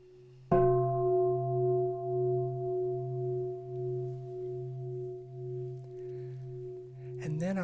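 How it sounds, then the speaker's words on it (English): A meditation bell invited once by a bell minder, a clear struck tone that rings on and slowly decays with a gentle pulsing shimmer, close and quiet, with a faint rustle near the end. "listening to the sound of the bell"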